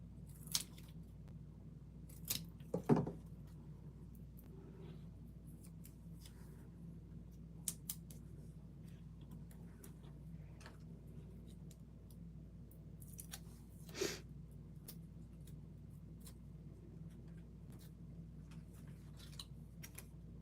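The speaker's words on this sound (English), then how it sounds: "Let's trim down some more strips." Scissors make a few sparse, faint snips while trimming strips of paper for a Stampin' Up! card, isolated clicks spaced over a quiet background.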